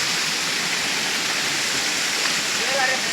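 Water rushing and flowing below after heavy rain, a dense, steady roar close by that continues unbroken throughout.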